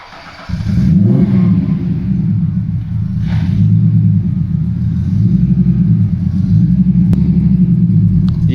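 A TVR 290 S starts up and drives slowly around a yard, its engine a loud, close, low rumble with a few rises in revs throughout.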